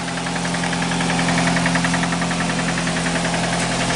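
A car engine idles with a steady, continuous rhythmic knock, loud and close, with no talk over it.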